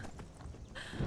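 Hooves clip-clop from a horse in Skyrim, a few soft, irregular steps with a faint game ambience underneath and no voices.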